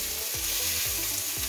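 Chicken breasts brown in a frying pan with a constant bubbly sizzle, broken by a few regular scraping strokes as the pieces are moved.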